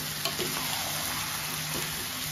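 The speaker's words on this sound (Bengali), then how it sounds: "এখন আমি মাংসটা ঢেলে দিচ্ছি।" Mutton hits a hot pan and sets off a dense, steady sizzle with soft crackling and a little stirring, close and continuous, with no talk.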